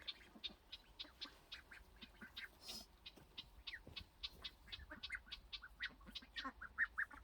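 A flock of farm-raised ducks quacks repeatedly in quick, irregular calls, several birds overlapping at close to moderate distance, fairly quiet overall with a faint background hum.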